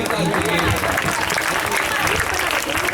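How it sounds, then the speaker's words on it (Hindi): An audience at a Defence Day gathering claps steadily for a speaker, a dense, continuous wash of applause with a voice faintly audible under it. "भरपूर तालियां"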